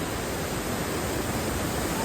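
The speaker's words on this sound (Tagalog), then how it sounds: "Tapos may falls dito na ganyang kalakas" Strong waterfall at Maranum Falls in Natividad, Pangasinan: a steady, dense roar of rushing water that fills the whole short stretch without a break.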